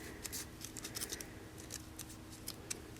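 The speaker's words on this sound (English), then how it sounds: "So I just trim them to fit each time." Scissors snip through paper trimmed to fit a window card, a scatter of short crisp cuts at an irregular pace, close and fairly quiet with no talking.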